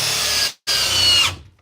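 A Flex cordless drill on a 2.5 amp-hour battery, set to speed 2 and drill mode, drives a 6-inch Timberlock screw into wood: two loud, close whirring bursts of motor noise with a brief silent pause between them, then a tapering finish.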